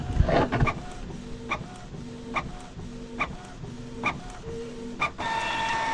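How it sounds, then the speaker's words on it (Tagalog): A Canon G2010 inkjet printer prints a check pattern, with regular mechanical clicks and whirring carriage passes repeating about every second, ending in a steady motor run. "So, click natin yung print check pattern."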